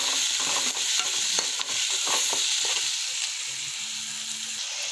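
Poha stir-fried with peas and tomatoes in a pan, giving a steady close sizzle with repeated scraping stir strokes throughout and no talking.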